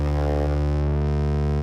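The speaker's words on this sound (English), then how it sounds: "And I'm gonna plug this into the bass pickup of my harp," Harp played through its bass pickup into a Chase Bliss Reverse Mode C pedal, giving one loud, sustained, buzzy harmonic tone that holds steady and then cuts off, with no voices.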